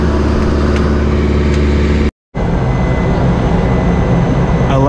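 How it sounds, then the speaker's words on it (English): Trans Guyana Airways charter airplane taxiing out toward the runway, a loud steady engine drone heard from inside the cabin, cutting out briefly near the middle before resuming. "And we are taxiing out to runway 25."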